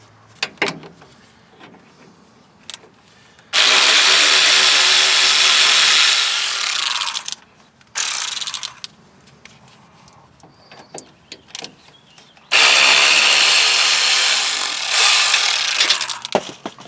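Nissan Titan strut bolts being removed with a power tool, two long loud bursts of harsh rattling whir plus a shorter one, separated by quiet pauses with small clicks.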